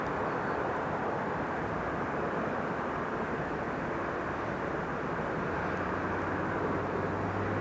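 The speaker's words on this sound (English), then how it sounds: "That was American 131 coming in from San Francisco" An American Airlines airliner arriving from San Francisco lands at LAX, a steady, loud broadband jet roar that holds at near-constant level throughout, with no voices.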